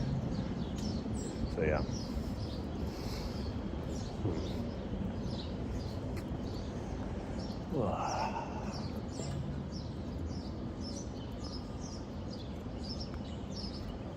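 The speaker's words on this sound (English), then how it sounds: "It's nice to hear the birds chirping a little bit." Birds chirp and tweet outdoors in repeated short calls throughout, fairly faint behind steady background noise, while people talk nearby.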